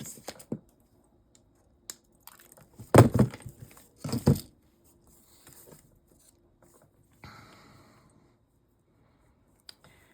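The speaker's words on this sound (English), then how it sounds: "I'm going to take a piece of this wire, and I'm going to cut it" Wire being cut with a hand tool, heard as a few sharp snaps and crunchy clicks in a quiet room, with one brief cluster of louder handling noises and scattered small taps around them.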